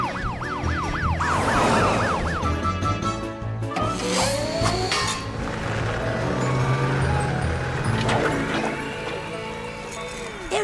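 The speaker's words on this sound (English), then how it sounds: "The sirens say help's on the way!" Wailing sirens sweep up and down rapidly at first, mixed with clip-clopping hooves and a busy, noisy background that continues throughout.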